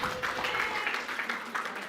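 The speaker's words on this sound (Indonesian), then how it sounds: "Tepuk tangan." Audience applause at a children's gathering greets a performer introduced on stage, a steady patter of many hands clapping at moderate distance for about two seconds with no talk over it.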